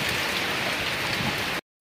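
Heavy rain pours down steadily during a storm in eastern Ionian Sicily, a dense, even hiss of drops hitting surfaces that stops abruptly at the end.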